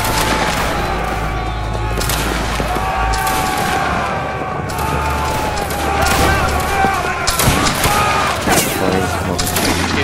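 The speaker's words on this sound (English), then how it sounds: "Present, and fire." Line infantry firing in a multiplayer historical video game, with muskets going off in a ragged, crackling volley of overlapping shots and booms, loud and close, over constant voice chat.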